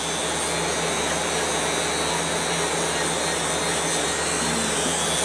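Buffing wheel polishing a Kydex plastic knife sheath, a steady loud whirring motor hum with broadband hiss that holds unbroken throughout, no talking.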